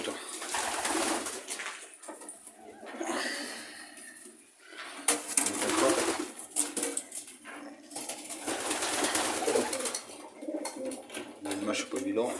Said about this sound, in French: Toujours en forme ce pigeon.